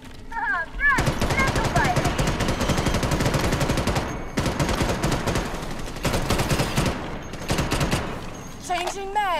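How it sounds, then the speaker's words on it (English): Sustained bursts of submachine gun fire in the sci-fi shooter Starship Troopers: Extermination, loud and rapid with brief pauses, over battle noise and creature shrieks. "And that's just a submachine gun."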